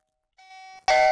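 A single electronic doorbell chime rings, a clear tone followed by a louder, harsher second note that cuts off abruptly.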